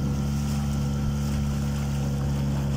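A motorboat engine with a homemade propeller drones steadily with a strong low hum, water rushing alongside as the boat picks up speed.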